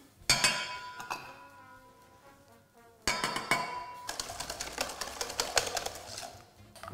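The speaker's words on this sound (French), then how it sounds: "Battre les jaunes et le sucre." A whisk beats egg yolks and sugar in a bowl for a chocolate mousse, making a fast, steady clinking against the bowl's side. A short burst comes first, then after a pause a longer, louder run.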